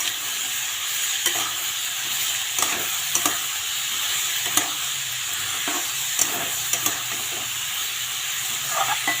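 Papaya with salt, turmeric and green chili is stirred in a pan, a steady hiss of frying running throughout with repeated light scrapes and taps of the spoon, close up and continuous.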